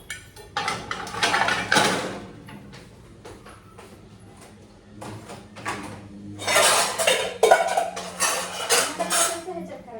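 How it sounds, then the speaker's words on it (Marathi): Dishes scrubbed and washed by hand in a home kitchen, with loud clattering of pots and steel plates in two busy bursts and a quieter scraping stretch between them. A voice speaks faintly in the background. "भांडे घासायचं असं चाललंय माझं."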